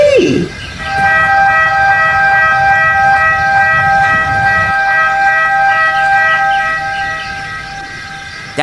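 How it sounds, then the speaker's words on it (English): A harbor emergency siren wails in a steady, loud, sustained tone close by, holding its pitch for several seconds with a low rumble beneath and no talk. "That's the emergency siren."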